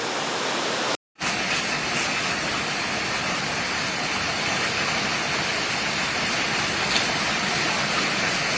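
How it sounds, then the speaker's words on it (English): Floodwater rushes in a dense, continuous roar during Tropical Storm Grace in Jamaica. The sound is loud and close, with no break apart from a brief dropout near the start. "Water is coming from every angle."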